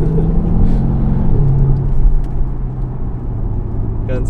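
Steady low engine drone inside a moving Mercedes W213 E350d diesel fitted with an Active Sound system, heard from the cabin at a constant, fairly loud level with a slight swell midway and no talk.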